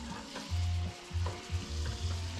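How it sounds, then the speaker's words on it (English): Sauce bubbles and sizzles in a pan over a camp stove at a campsite in Possum Kingdom State Park, close up, with repeated scraping stirring strokes and no talking. "Now, I'm supposed to let this simmer until it starts thickening a little bit."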